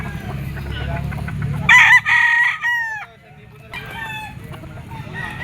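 A yellow-legged bull stag gamefowl rooster crows loudly and close by, one strong cock-a-doodle-doo. A second, fainter crow follows over low background chatter at a market.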